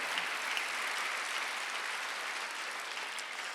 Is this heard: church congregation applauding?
yes